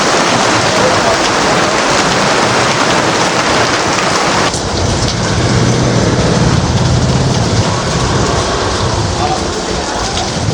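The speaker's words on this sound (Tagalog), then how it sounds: "Lakas ng ulan nito mga idol" Heavy rain pours down in a dense, loud, unbroken roar, drumming steadily on surfaces with no letup and no voices over it.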